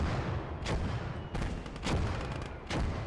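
Mortar and artillery fire in the WWII strategy game Call To Arms: Gates Of Hell, a dense continuous rumble of battle with several heavier booming impacts rising above a steady roar of gunfire.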